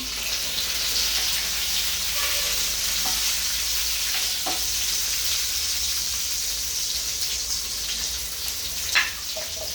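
Onions fried in a pan for restaurant-style kadai paneer, a steady, close sizzle throughout with occasional sharper crackles and faint stirring scrapes.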